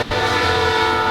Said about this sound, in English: And we got a train going by.